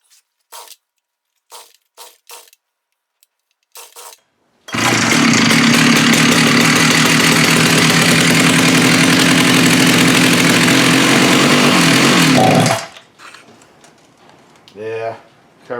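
Stihl MS461 chainsaw, a veteran tree-cutting saw with a carburetor fault, roars at full throttle for about eight seconds, loud and close, after a few short pulls and sputters, then cuts off; a voice talks faintly afterward.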